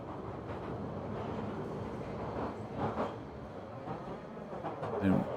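A metro train rolls into a station with a steady rumble that swells briefly near the middle and ends with a faint squeal, while people talk over it.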